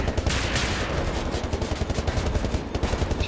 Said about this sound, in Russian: Да, вот он мне стреляет.